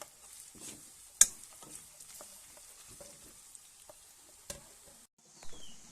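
Red chilli fries in a pan for an Assamese kochu saak dish, a soft steady sizzle broken by scraping stirs and a few sharp clinks of the spoon against the pan.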